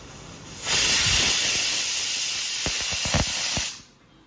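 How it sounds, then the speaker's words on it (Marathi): A loud, steady hiss of escaping steam from a pressure cooker of dal and aubergine on medium heat holds for about three seconds, with a few clicks and rattles, then cuts off. "आता कुकर लावूया आणि चार पाच शिट्ट्या मीडियम गॅसवरती काढूया"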